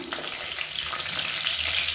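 Whole spices and green chilies frying in hot oil for tomato-free masala rice, a steady close sizzle and crackle running unbroken throughout with no talk.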